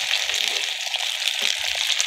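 An egg sizzles in hot mustard oil on a griddle, a steady bright frying hiss that holds throughout at moderate loudness with a few faint low clinks.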